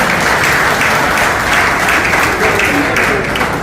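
Warm, sustained applause from a gathered crowd of current and former horse racing trainers and their families at a trainers' association retirement ceremony, loud and dense with no pauses, filling the room throughout.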